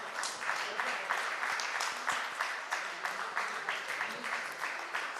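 An audience claps steadily for guests stepping onto the stage at a civic convention in Faridabad, the applause dense and sustained throughout with rhythmic swells, while a host's voice carries faintly over it.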